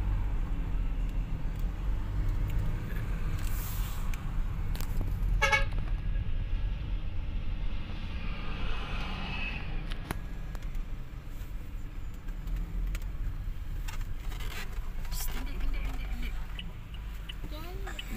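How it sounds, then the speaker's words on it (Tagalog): Busy road traffic outside an airport terminal, with a steady low rumble of engines and a few car horns tooting, one clear honk near the middle; voices talk over the din. "Matraffic dito."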